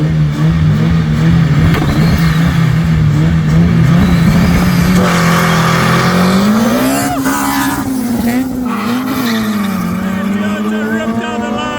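Race cars, among them a Golf 1 Turbo, accelerate hard with loud, continuous engine roar that rises in pitch through the gears, with tire squeal and a commentator talking over the racing noise.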